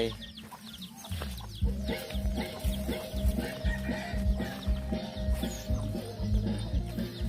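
Chickens cluck and peck around a hill village yard, giving a busy, close, irregular stream of short clucks with occasional louder calls.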